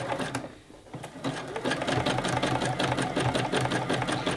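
A sewing machine zigzag-stitches over yarn to gather fabric for a reversible round basket, a close, fast, even mechanical clatter that halts briefly, then runs steadily with no voices.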